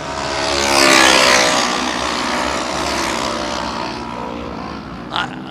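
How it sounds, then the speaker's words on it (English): Off-road side-by-side race car on a short-course straightaway at a desert track, its engine roaring loud as it passes close by, then fading into a steady drone, with a brief sharp burst near the end. "it sounded like some funny noises coming out of Anderson's car as he drove by on the straightaway"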